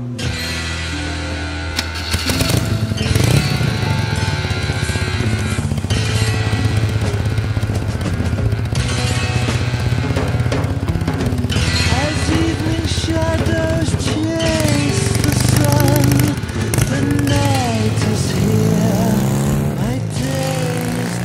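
Vintage BMW R65 motorcycle engine starting up and then running steadily, a loud close mechanical drone with brief revving rises.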